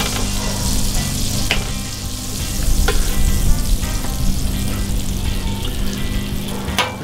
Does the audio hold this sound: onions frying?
yes